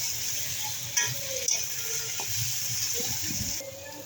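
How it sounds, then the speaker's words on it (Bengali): Ground cumin, coriander and black pepper frying and being stirred in a pan, a steady soft sizzle with a few sharp clinks of a utensil against the pan. "কত সুন্দর মশলাটা ভাজা ভাজা হয়েছে"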